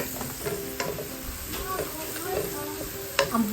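Curry powder frying in a pan for a gourd-and-fish curry: a close, steady sizzle with a few scraping stirs and a sharp clatter near the end.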